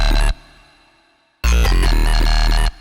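A synthesized growl patch built in Serum 2 with hall reverb, heard as two loud, dense, buzzy bursts separated by a decaying reverb tail that fades toward silence before the second hit cuts off abruptly.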